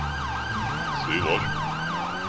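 Wailing police siren in the video game GTA 5 roleplay, sweeping up and down repeatedly, fairly loud and steady, with a brief spoken word over it.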